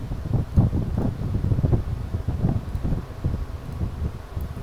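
An electric fan running close to a microphone during an online class on simulation software produces a steady, rumbling wind-like roar with gusty low-frequency buffeting throughout, no talking.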